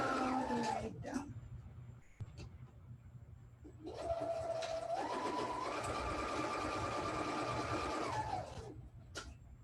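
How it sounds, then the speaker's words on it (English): A sewing machine stitches a quilt patchwork seam, a whirring run that starts around four seconds and continues steadily, close and alone, after a few brief quieter bursts. "And then we're gonna sew all the way down."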